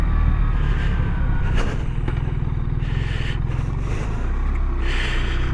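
A brand-new BMW R1300RS motorcycle rolls along with its engine braking, a steady low rumble and drone carrying throughout with faint wind and road noise on top.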